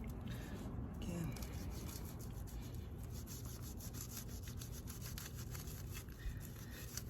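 A Wartech survival knife saws back and forth through rope in a steady rasping rhythm, close and fairly loud, with a voice talking over it.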